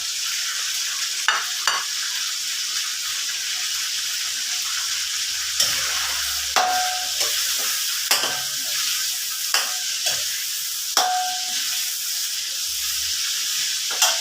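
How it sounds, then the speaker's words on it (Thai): Chicken liver deep fries in hot oil with a bright, continuous sizzle close by, broken by repeated scraping and clinking stirs of a utensil in the pan. "ทอดไปเรื่อยๆ ให้เหลืองให้ตับสุกเหลือง"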